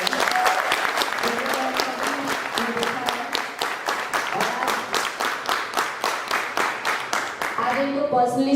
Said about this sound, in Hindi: मिस्टर योगेश्वर दत्त के लिए जोरदार तालियां हो जाए